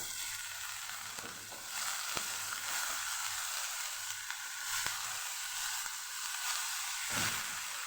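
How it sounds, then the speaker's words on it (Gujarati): Continuous sizzle of potatoes sautéing in hot oil, with occasional stirring clicks and scrapes, close and steady throughout. "જે બટેટા પાણીમાં રાખેલા એ આપણે અહીંયા ઉમેરી દઈશું"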